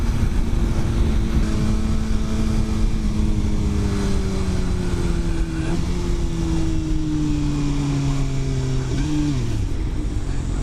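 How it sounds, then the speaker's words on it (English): A motorcycle hums steadily under strong wind rush while riding, its engine tone sliding slowly lower, then dropping sharply near the end as the rider downshifts and the bike kicks out of second gear. "I just downshifted in my second and my bike just kicked itself out of second gear"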